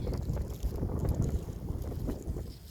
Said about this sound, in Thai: ลมแรงมากเลยนะคะวันนี้